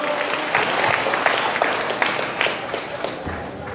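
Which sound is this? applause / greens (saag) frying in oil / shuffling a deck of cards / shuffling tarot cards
applause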